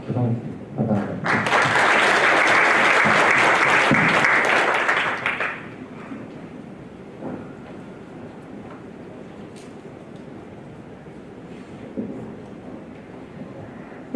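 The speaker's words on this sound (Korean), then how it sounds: "여러분 뜨거운 박수 부탁드립니다" A conference hall audience claps after a presentation at a blockchain startup event, a loud, dense burst of applause that swells quickly and then fades out into room murmur and an announcer's voice.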